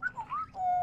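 A person whistles an imitation of a whippoorwill, a short, close run of clear rising and falling notes ending in one long held tone.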